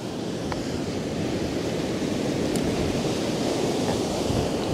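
Sea waves roll in steadily at high tide, a loud continuous wash of surf mixed with wind rumble and no talking.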